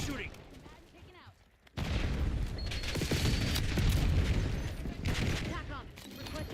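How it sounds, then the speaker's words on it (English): Enemy sniper fire rings out in Black Ops 6 on the Nuketown map, a sudden loud crack that opens into a sustained roar of battle noise. Voices talk over and around it. "Enemy sniper shooting."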